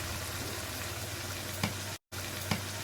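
Mutton with potatoes and tomatoes is being fried down in a pan, a dense steady sizzle with a low hum, a couple of spatula knocks and a brief dropout.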